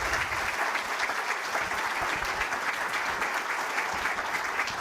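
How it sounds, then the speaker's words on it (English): An audience claps steadily for a speaker at a brain injury awareness event, a dense, even wash of applause from a crowd, sustained without pause and with no voices over it. "Let's give Damien a huge clap."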